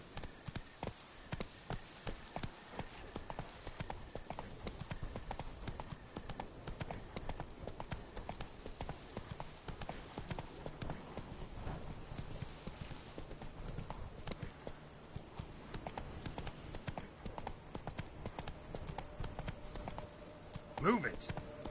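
A horse's hooves clip-clop at a steady, quick gait in The Witcher 3, a continuous rhythmic patter heard at moderate closeness, with a louder knock near the end and no clear voices.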